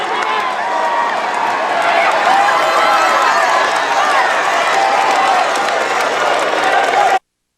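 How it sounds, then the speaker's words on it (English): A roadside crowd at a Tour de France stage shouts and cheers steadily for the race leader in the yellow jersey, a dense, continuous roar that cuts off abruptly. "the crowd shout for the man in yellow"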